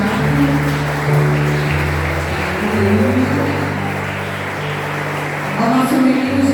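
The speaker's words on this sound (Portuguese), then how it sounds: "pode aplaudir também o pessoal do teatro" A church audience at a Christmas cantata applauds the theatre group with steady, dense clapping that runs the whole time over sustained musical tones and some voices.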